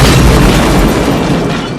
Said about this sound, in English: fantastic explosion